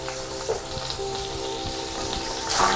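Ginger and garlic sauté in a little white oil while boiled chicken pieces are added for chicken sweet corn soup, a close, steady frying sizzle with a few brief clinks and scrapes, no talking.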